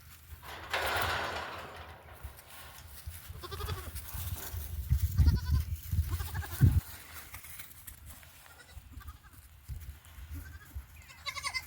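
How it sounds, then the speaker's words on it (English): Pet goats being herded and moved around outdoors bleat repeatedly in wavering, nasal cries, several calls overlapping at mid distance over low rumbling background noise. "Moving the goats around."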